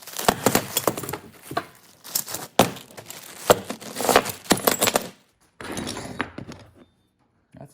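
Small metal parts from a DIY Barnes 4WD crossmember kit clatter and clink as they are unwrapped and sorted by hand. The sounds come close up in irregular bursts and then stop.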